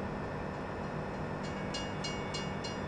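A train in the Farming Simulator 17 video game rolls along with a steady mechanical rumble. Faint, regular clicks of the wheels running over rail joints sit on top of the rumble.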